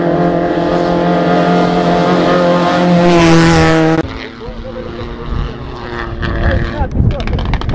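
A rally car on the Caminos del Inca 2024 second stage, Huancayo to Ayacucho in the Carpapata sector, roars past with a rising, loud engine howl that cuts off abruptly and fades into rough gravel noise, with spectator voices around.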